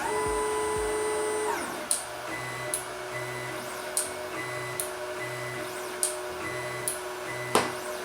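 Wanhao D9 3D printer running automatic bed leveling: a motor whine fades, then a regular series of sharp probe taps sounds about once a second over a low pulsing hum, close and alone.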